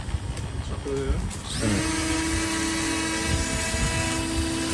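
A small drone's motors spin up into a steady, close, buzzing whine that holds level, with brief talking just before it starts.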